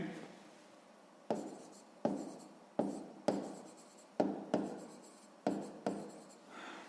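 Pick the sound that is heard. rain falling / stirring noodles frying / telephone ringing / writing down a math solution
writing down a math solution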